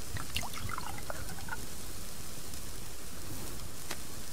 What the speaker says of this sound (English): Give the plant some water.